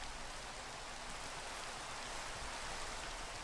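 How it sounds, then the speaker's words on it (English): Rain falls in the Minecraft video game as a steady, soft, even hiss with no variation, faint and alone without any talk. "Or hopefully it just stops raining."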